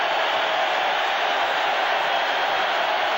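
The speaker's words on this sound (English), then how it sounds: "Here comes the crowd in an attempt to get back in the game." A large stadium crowd roars at the Kingdome during a 1985 Falcons versus Seahawks football game, a steady, dense, loud wash of cheering and noise with no breaks.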